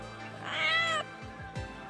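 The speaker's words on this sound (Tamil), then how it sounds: "இந்த பூனை வேறு கட்டிகிட்டு இருக்கேன், என் பெட்டு எனக்கு பிடிச்சது பூனை" A pet cat gives one clear, fairly quiet meow that rises and falls, followed by a few faint short sounds, with no talking.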